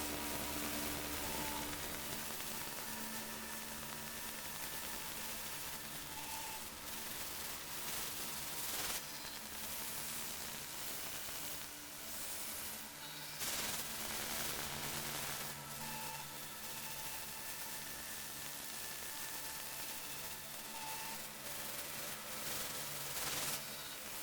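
A synthesizer sound processed with wave folding during music production plays as a dense, noisy, hissing texture with faint sustained tones beneath, steady and fairly quiet for over twenty seconds with small swells and no voices.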